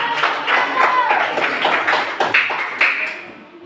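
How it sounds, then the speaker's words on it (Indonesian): An audience at a classroom presentation claps together, a short close burst of dense applause lasting a few seconds and fading at the end. "Iya, tepuk tangan dulu."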